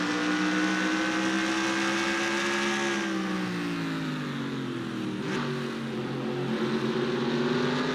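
An M&M's Pontiac race car in a racing video game brakes hard into a corner, its steady engine drone dropping in pitch as it slows, loud and continuous with no talk.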